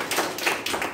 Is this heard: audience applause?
yes